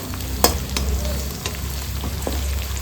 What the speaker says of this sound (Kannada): ಕರಿಬೇವು ಸೊಪ್ಪನ್ನು ಹಾಕ್ಕೊಳ್ತಾ ಇದ್ದೀನಿ ಚೆಂದ ಫ್ರೈ ಮಾಡ್ಕೋಬೇಕು